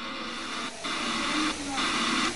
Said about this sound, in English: This is sound captured from outer space as part of an exhibit at San Jose's Tech Museum.